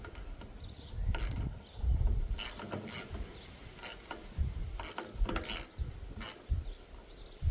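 A spanner ratchets on a bolt in a workshop, giving several bursts of rapid clicking with short pauses between them, close and moderately loud against a low background hum.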